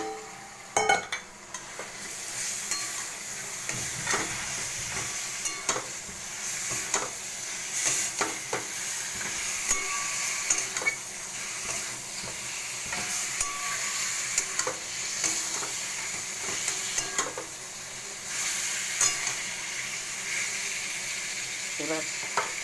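Chicken with dry chilli powder fries in a pan, a steady sizzle broken by repeated metal spatula scrapes and clinks against the pan over a long stretch; faint voice in the background at moments.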